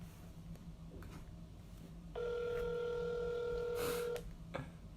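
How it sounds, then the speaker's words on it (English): A phone call ringing out to a friend: a steady electronic ring tone holds for about two seconds, set against soft background room noise with faint clicks and no speech. "So we're gonna try and call our friend Mike, who decides never to show up to anything"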